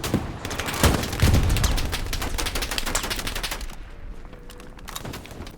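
Dense gunfire in the World War game Hell Let Loose: a sustained volley of overlapping rifle and machine-gun shots with heavy booms early on, loud and continuous before thinning toward the end.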